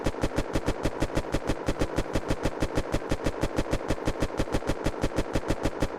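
An Augewehr rifle firing on full auto in the video game Unturned, a fast, perfectly even string of about forty loud, close shots with no gaps and no talking.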